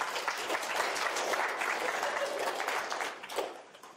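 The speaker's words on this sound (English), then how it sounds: "Give him a round of applause." An audience at a talk on AI in games gives a round of applause, a dense, steady wash of many hands clapping that holds for several seconds, then thins and fades.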